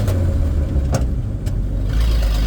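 A 1976 Ford F-250 with a manual transmission revs and rumbles while shifting gears on the road, its loud low engine note dipping briefly between gears before pulling again, with no voices.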